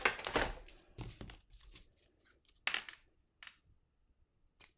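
Scissors snip through ribbon ends on a handmade card, a few short crisp cuts and paper rustles, close and quiet, with pauses between snips.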